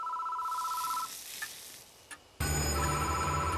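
A telephone rings in the horror game Spirit Hunter: Death Mark, a short electronic trill at the start that fades into quiet with a faint click before a loud, dense burst of game sound cuts in.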